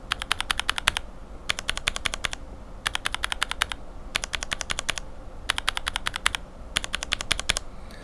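Typing on a mechanical keyboard with Cherry switches fitted with Panda top housings, sharp rapid clicky keystrokes in six short bursts separated by brief pauses, close and crisp.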